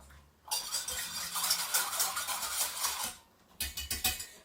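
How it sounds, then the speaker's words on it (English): A spoon stirs beef stew in a pot for about three seconds of continuous scraping and swishing, then pauses before a few more short scrapes against the pot, close and moderately loud with no talk. "I'm going to give that one last stir up."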